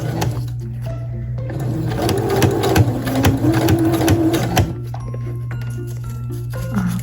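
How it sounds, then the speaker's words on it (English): A sewing machine stitches new elastic into Barbie doll legs, a close, steady mechanical whirring and rapid ticking that speeds up in the middle and then settles back to a lower hum. "you are going to pull taut as you sew"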